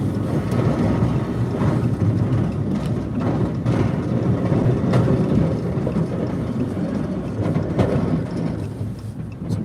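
Strong wind roars steadily across snowy ground, a loud continuous rushing with gusty buffeting against the microphone and no voices.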